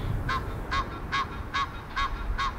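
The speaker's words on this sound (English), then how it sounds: "Geese is going crazy." Geese honk at sunrise near the London Eye with six regular, evenly spaced calls at moderate distance, carried over a constant low rumble of city and wind noise.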